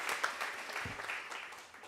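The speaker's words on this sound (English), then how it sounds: "Can I have a round of applause, please?" An audience at a women's leadership conference giving a brief round of applause, a soft, steady patter of clapping from the room, with a faint voice near the start.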